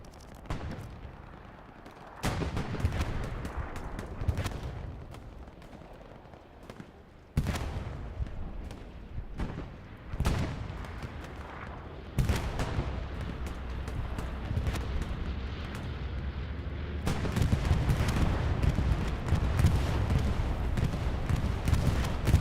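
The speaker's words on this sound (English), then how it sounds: "The bombing run is coming in. We have artillery strike." Heavy video-game battle din from an artillery strike and bombing run, with booming impacts and rolling blasts layered over steady gunfire, loud and continuous throughout with several sharp new surges.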